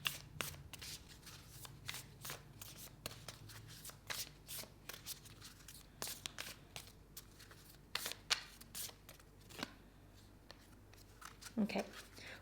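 Moonology oracle cards being shuffled by hand in a quiet room, a steady run of crisp riffling flicks and soft slaps that repeats in bursts, with a voice murmuring faintly underneath.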